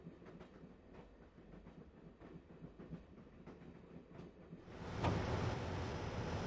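Train running in the video game Broken Sword: The Shadow of the Templars, a steady rumbling clickety-clack of rail wagons that swells louder and brighter toward the end.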